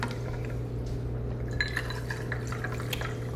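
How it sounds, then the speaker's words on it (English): Soda water topping a cucumber cocktail in a glass, a soft fizzing pour with light trickles and a few faint glassy clinks, close and quiet against a low background hum. "And then top it off, we'll just use a little bit of soda water."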